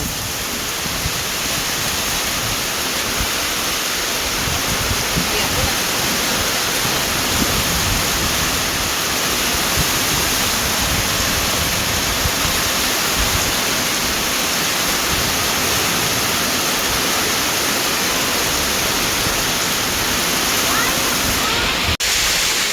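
Loud, continuous rush of flowing water, dense and unbroken throughout, like a strong stream pouring close by.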